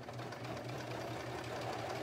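Sewing machine running steadily while hemming around the bottom of a holiday nightgown, a continuous low mechanical whir and rapid stitching hum, close and fairly quiet, with no pauses.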